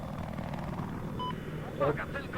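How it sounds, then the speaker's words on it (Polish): A helicopter flies in the video game Battlefield 4, giving a steady low rotor and engine drone that runs through the whole clip, with brief game beeps and tones over it. "Możemy spostrzelać z tego helikoptera?"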